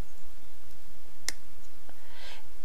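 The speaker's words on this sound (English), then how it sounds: "That click is as my pliers slips off the round wire" Pliers slipping off round wire while wrapping bead stud earrings give a single sharp, close click against a steady background hiss, with a couple of fainter taps around it.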